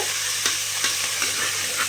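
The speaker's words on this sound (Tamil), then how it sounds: "நல்லா இஞ்சி பூண்டு பேஸ்ட்டு பச்சை வாடை போகிற வரையிலும் வதக்கிடுங்க" Ginger garlic paste sautéing in a pan for a village-style mutton curry, a steady bright sizzle with a few soft stirring scrapes recurring through the short stretch, close and fairly loud with no talking.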